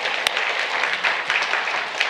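Church congregation breaking into applause, dense, loud clapping filling the room without pause for a couple of seconds.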